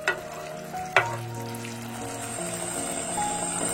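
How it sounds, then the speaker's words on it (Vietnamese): Sauce hits a hot pan of fried shallots and garlic for a tofu dish and is stirred, giving a loud, steady close sizzle with a couple of sharp utensil clinks early on; no talking. "Rồi mình cho nước sốt vào, khuấy đều tay."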